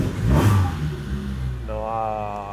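A Peugeot 106 Rallye engine turns over and catches with a burst of cranking, then settles into a steady, fairly close idle hum.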